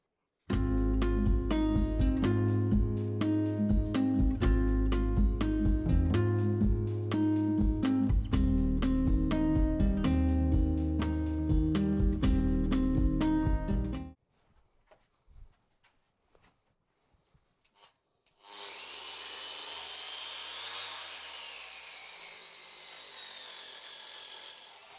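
Handmade cherry wood bowl being sanded, starting with a loud, steady mechanical drone for about fourteen seconds, then a pause of faint ticks, and finally a softer continuous abrasive hiss of sanding.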